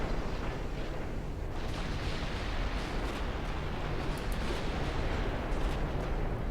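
Naval warship guns firing in Ultimate Admiral Dreadnoughts, a continuous rumbling wash of distant booms and blasts, fairly faint, with no clear separate shots standing out.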